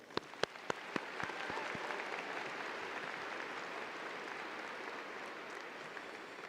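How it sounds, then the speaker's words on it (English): A crowd at a Lewisville High School graduation ceremony, 2021, breaking into applause, with a few sharp individual claps at first swelling into a steady, distant, reverberant wash of clapping that continues to the end. "How about a round of applause?"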